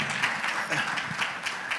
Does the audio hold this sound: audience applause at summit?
yes